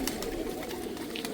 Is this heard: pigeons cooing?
yes